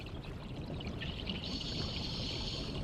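Underground river water called the Black Danube flows in a subterranean channel, a steady pouring wash with a brighter splashing stream sound rising midway, heard alone without voices.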